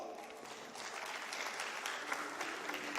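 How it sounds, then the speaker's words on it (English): Audience applause welcoming speakers at a conference on oral health, steady, dense clapping that fills the room and swells slightly toward the end, with no voices standing out. "I will request our audience to let's welcome our speakers with a round of applause."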